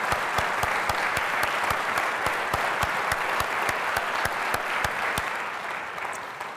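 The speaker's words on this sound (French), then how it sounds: "on peut l'applaudir pour vos nouvelles fonctions" Sustained applause from an audience at a university ceremony naming a new chancellor and board president, an even wash of many hands clapping, with a few sharper nearby claps cutting through at a steady beat.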